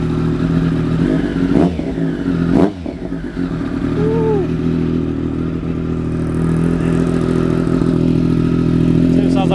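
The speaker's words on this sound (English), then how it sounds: "See what it sounds like with the baffle." A Triumph Daytona 955i motorcycle engine with the exhaust baffle fitted runs at a loud, steady drone, broken by a couple of brief clattering blips early on.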